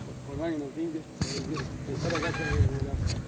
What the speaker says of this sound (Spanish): escuchar los gansos que pasan